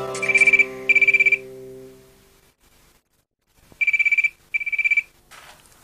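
A telephone rings in two bursts of rapid trilling pulses, then stops for a moment and rings twice more, loud and close over faint background music.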